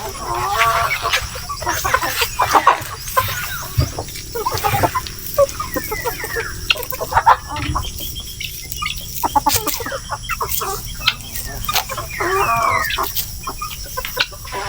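Heritage chickens on a farm cluck busily and continuously while pecking at feed, with overlapping calls, a few crows and rapid pecking taps forming a dense, close flock chorus and no talk.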